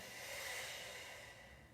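A slow, deep exhale during yoga breathing, a soft airy hiss that swells and then fades, quiet and close with no talk.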